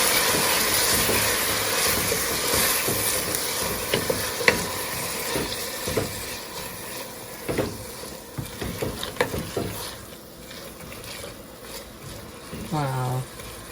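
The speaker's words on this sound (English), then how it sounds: "I'm gonna pre-cook the onions for about 2 minutes before I add my peppers." Onions sautéing in a pan before peppers go in, a steady sizzle broken by repeated stirring scrapes and clinks, growing sparser toward the end, with a voice speaking over parts of it.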